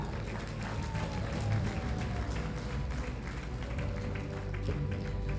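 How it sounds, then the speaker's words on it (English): A renewable energy conference audience claps for award winner Nexus Green, Best Exhibitor of the Year, with sustained, fairly quiet applause in a hall and some background murmur. "Let's clap for them until they get here."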